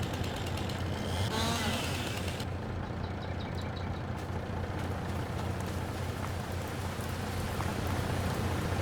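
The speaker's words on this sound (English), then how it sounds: "sounds like it's starting to rain" Rain beginning to fall in the forestry video game Silverrun Forest, a steady broadband hiss of rainfall over a low engine-like rumble, continuous and fairly loud throughout with no talking.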